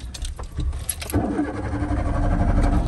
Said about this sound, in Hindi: गाड़ी स्टार्ट नहीं हो रही बे।